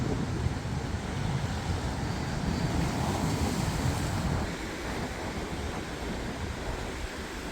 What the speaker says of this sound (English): The wind, if it wasn't blowing so hard, it would actually be pleasant.